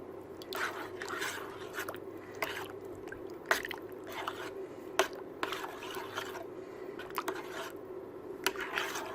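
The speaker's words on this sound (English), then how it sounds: "I'm just going to stir it and heat it through" Chicken basil casserole stirred in a pot, soft wet squishing and scraping with occasional sharper clicks of the spoon against the pot, quiet and close.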